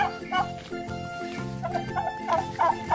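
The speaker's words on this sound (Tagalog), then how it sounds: "Free range chicken." Free-range chickens cluck and call in short bursts nearby, with a voice faintly in the background.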